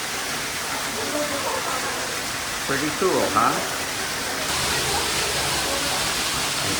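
A waterfall roars as a steady, dense rush heard from inside a cave beneath the falls in Atami's plum garden in Japan, with a person briefly speaking over it.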